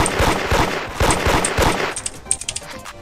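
Rapid automatic gunfire in the video game Hood Modded, loud close bursts of quick repeated shots for two seconds, then a few sparser scattered shots trailing off.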